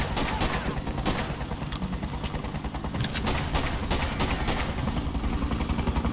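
Dense gunfire from a soldier-fighting video game, rapid overlapping shots and bursts rattling continuously and loudly throughout with no pauses.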